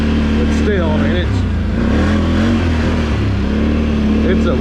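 A 2023 CanAm Outlander 850 XMR ATV engine running loud and close, its revs rising and falling under someone talking.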